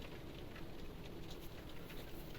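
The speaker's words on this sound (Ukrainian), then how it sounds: "Вон, бачите, як тече з криші." Rain patters steadily and runs off a house roof over a vegetable garden, a dense, even hiss of drops with no voices, close and moderately loud throughout.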